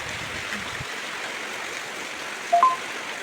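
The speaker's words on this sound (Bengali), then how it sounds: "এর পাশ দিয়েই পানি পড়ছে, পানি বয়ে এই গর্তটা তৈরি হয়েছে।" Rainwater flows and pours steadily beside a market building on a rainy day, a continuous broadband wash of running water with a brief brighter splash or drip near the end.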